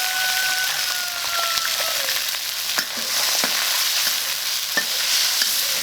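Pork liver stir-fried with lettuce stem and small chilies in a hot wok, a steady close sizzle with scraping stirs and occasional clanks of the spatula, no voices.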